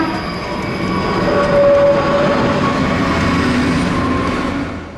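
A maintenance-of-way gang of rail equipment rolls past on the tracks near the NBER line, a loud continuous rumble with wheel noise and a faint tonal squeal, swelling and then easing off.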